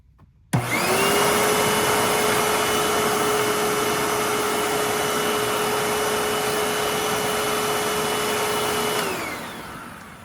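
A Hoover Tempo upright vacuum cleaner motor whirs on abruptly, holds a steady loud drone with a high whine, then starts winding down near the end.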